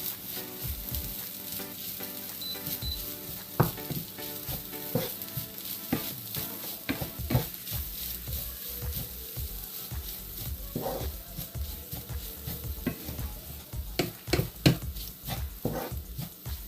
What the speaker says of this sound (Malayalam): തേങ്ങ നമുക്ക് ഇതിനകത്തേക്ക് ഇട്ട് കൊടുക്കാം. ഇത് നന്നായിട്ട് കൂട്ടി യോജിപ്പിക്കുക.